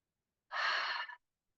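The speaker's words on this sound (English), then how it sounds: "If you want to make that exhale audible, please do." A single audible exhale during a guided breathing exercise, a soft breathy rush lasting under a second, close and alone with silence around it.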